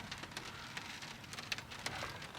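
Heavy rain from a severe thunderstorm pours onto a truck, a steady close hiss with scattered sharper drop impacts, heard alone without voices.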